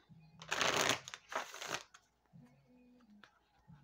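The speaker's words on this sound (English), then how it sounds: "So let me just shuffle just in case." Tarot cards being shuffled, two quick riffling bursts up close, followed by quieter handling noises and a soft hum.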